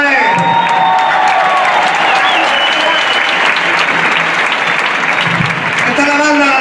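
Loud audience applause and cheering for the musicians of a live band at a Spanish-language concert, a sustained wall of clapping with whoops and shouts, while a voice talks over it near the start and end.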